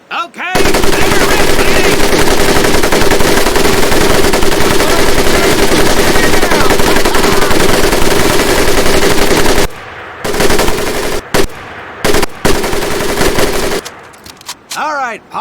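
An M1919A4 .30 caliber machine gun fires a long, loud continuous burst, then breaks into shorter choppy bursts separated by brief gaps, heard close up.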